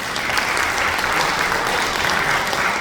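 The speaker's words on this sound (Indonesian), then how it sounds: "Tepuk tangan sekali lagi." A live audience claps in a steady, dense burst of applause that holds evenly from start to finish, with no voices over it.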